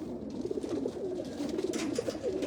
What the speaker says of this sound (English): I'm going to get ready to let these birds go.